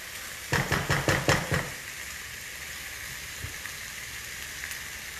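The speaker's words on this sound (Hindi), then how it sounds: "बस अभी टमाटर को भूनेंगे जब तक उसका कच्चा फ्लेवर निकल जाए." Wedges of tomato sizzle in a pan over the heat, with a few quick clattering bursts at the start before settling into a steady, soft frying hiss.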